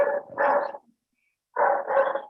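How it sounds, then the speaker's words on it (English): A dog gives two quick pairs of barks, short and fairly close, separated by a brief silence; each pair is a sharp double woof with slight growly edges. "That is not my dog."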